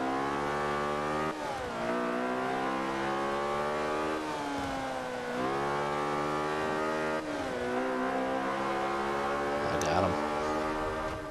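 A vintage race car engine in Forza Motorsport 5 at Silverstone, sustained and loud, with several sharp dips and climbs in pitch as the driver downshifts in rapid succession.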